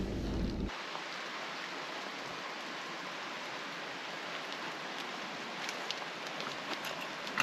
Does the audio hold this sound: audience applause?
no